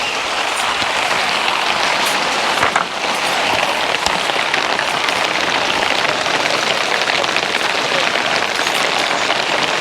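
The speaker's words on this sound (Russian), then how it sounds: "Дождик какой он." Rain falls steadily at an outdoor fishing spot by the water, a dense continuous hiss of drops pattering on surfaces, loud and close, with brief louder taps and no talking.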